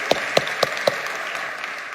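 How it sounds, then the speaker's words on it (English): At an artificial intelligence summit panel, a few crisp, evenly spaced handclaps ring out near the start, then give way to softer, more scattered applause that fades over the remaining second. "Please join me in giving a warm round of applause"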